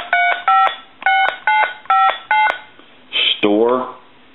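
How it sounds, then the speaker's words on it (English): A Harris TS22 lineman's buttset sends a run of about six short, evenly spaced touch-tone dialing beeps at close range, followed by a brief burst of noise and a voice. "I'm going to dial my number"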